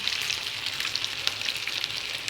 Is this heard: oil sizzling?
yes